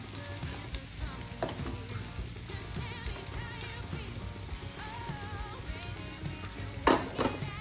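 Onions fry in a pan for a Kerala-style fish molly, giving a close, steady crackling sizzle with occasional stirring scrapes and a brief louder burst near the end.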